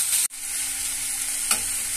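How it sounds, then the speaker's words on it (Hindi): Biryani masala with garam masala and roasted cumin powder fries in a pan, a loud steady sizzle with two brief stirring bumps. "अब इसको 2 से 3 मिनट तक फ्राई करेंगे।"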